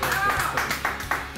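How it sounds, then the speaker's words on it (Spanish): A studio audience on a television show claps briefly in a quick burst of uneven hand claps. A voice can be heard faintly underneath. "Por favor, un aplauso para él."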